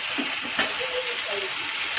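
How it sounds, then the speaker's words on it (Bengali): Food frying in a pan with a constant bright sizzle, like light rain, and a couple of faint stirring scrapes early on, heard close with no clear speech. "শুধু এটাকে ভাজি ভাজি করব, একটু পরপর পরপর এটা শুধু নাড়াবো"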